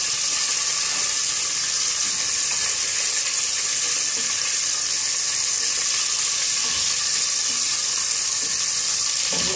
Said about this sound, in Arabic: راح نقليه جيدا يشم ريحه الزبده والسمن، عفوا الزيت والسمن